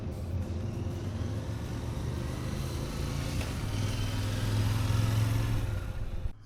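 Car driving on a road toward Crescent Lake, steady interior engine rumble and tire noise that swells slightly as it speeds up, continuous and fairly loud with no talking.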